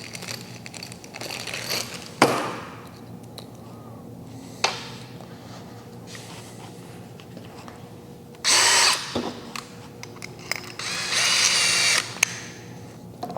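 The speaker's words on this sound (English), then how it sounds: "before you drill these down, put your drill at a 7" Power drill driving three screws up through a stainless bow plate on a boat, in short spaced bursts of whirring with quiet pauses between them, close by and with no voices.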